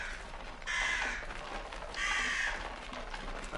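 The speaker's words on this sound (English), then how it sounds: "I hear crows." Crows caged in the Fallout game world give two harsh, drawn-out caws about a second apart, heard clearly over faint background ambience. No one speaks.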